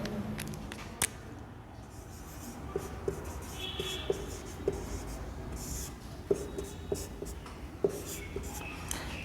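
Chalk or marker tapping and scratching on a board during a science lesson: soft, irregular strokes with small clicks spread through a quiet room, no talking over it.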